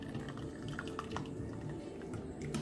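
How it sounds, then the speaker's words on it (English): Broth is poured gently and slowly into a pot of broccoli soup, giving a faint, soft trickle with a few small liquid splashes and drips, quiet and close. "Very gently and slowly just kind of pour it in there."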